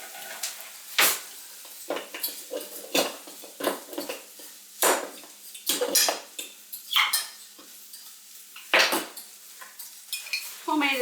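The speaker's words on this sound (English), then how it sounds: "Jim is sauteing some onions and peppers." Onions and peppers sautéing in a pan for cloud bread pizza: a utensil clatters and scrapes against the pan in irregular bursts over a faint background sizzle, close by.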